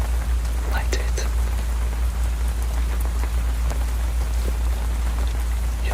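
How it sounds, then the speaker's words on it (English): Steady rain pours down at night, a dense continuous hiss of drops with a deep low rumble beneath, close and even throughout with a few brief brighter spatters. "The rain's still coming down."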